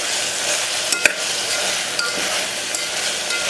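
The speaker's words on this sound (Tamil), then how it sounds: "நல்லா ஃப்ரை பண்ணுங்க." Ginger garlic paste frying and being stirred in a pan on low heat for mutton kuzhambu, a steady close sizzle with occasional sharp clicks of a utensil against the pan.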